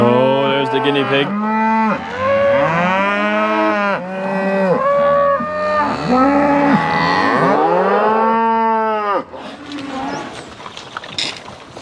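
Cattle on a farm low in long, loud, drawn-out moos, several calls overlapping and following one another close by, ending in a burst of rustling noise.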